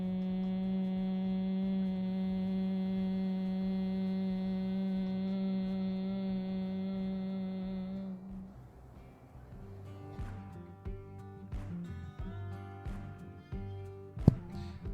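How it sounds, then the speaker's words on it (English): A human voice making the humming bee breath, a long steady nasal hum exhaled through the mouth with fingers pressing the ear cartilage, held for about eight seconds before it stops and soft knocks and handling noises follow. "you inhale through your nose and exhale through your mouth, making the humming bee noise"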